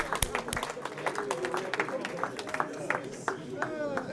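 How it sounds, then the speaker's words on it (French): A crowd claps in scattered, lively applause, with voices chattering throughout. "On s'applaudit avant la pause."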